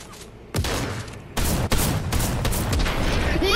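Submachine gun fire in a video game battle arrives in rapid dense bursts, loud and close, starting after a quiet moment and continuing with brief breaks.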